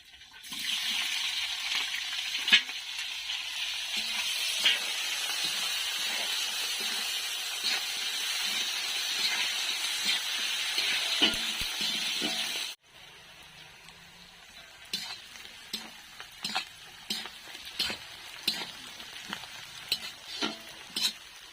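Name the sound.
bay leaves, cumin and onion frying in hot oil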